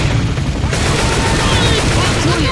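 Dense, loud bursts of gunfire in the zombie shooter Left 4 Dead 2, a continuous barrage of overlapping shots filling the whole moment with no pauses.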